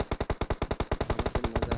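Automatic gunfire in the mobile game PUBG Mobile: a rapid, evenly spaced burst of about seventeen loud, close shots in under two seconds.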